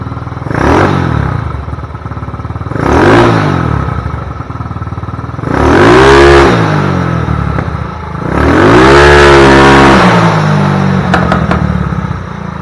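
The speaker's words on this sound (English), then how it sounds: "Now let's give a couple revs." A scooter engine revs up four times in a row, each rev swelling loudly and dropping back to a rough idle, with a faint clatter at the end.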